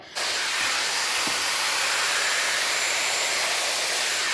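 A Dyson AirWrap hair styler fitted with its soft smoothing brush blows a loud, steady, broadband rush of air that holds unbroken from start to finish without pause.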